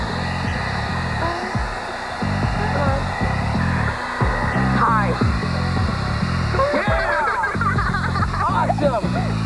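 A hair dryer blows on high at a small model windmill, giving a steady whirring hum with pulsing low tones. Voices talk and laugh over it.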